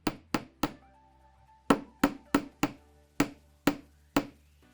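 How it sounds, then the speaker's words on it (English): A hammer taps 20 gauge wire on a hard block to texture it for jewelry, giving sharp metallic clinks: three quick strikes, a pause, then seven more spaced hits, each ringing briefly, close and clear. "I got that one kind of hammered and texturized."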